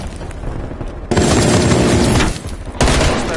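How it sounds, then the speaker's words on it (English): Sentry gun firing in a video game, dense loud bursts of rapid automatic fire in two long volleys separated by a short break, close and harsh. "Oh, that's the sentry gun."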